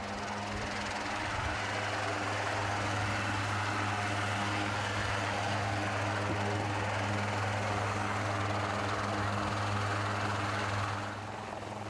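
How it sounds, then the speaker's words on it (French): A helicopter's steady rotor and engine roar fills the scene over Round Island, loud and continuous, with a low droning thrum throughout and no voices. "L'hélicoptère transporte aussi de la nourriture et du matériel pour l'équipe de scientifiques"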